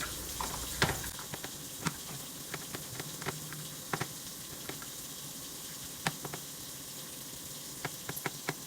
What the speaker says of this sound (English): What we're gonna do is we're gonna go ahead and get this shrimp cooked up.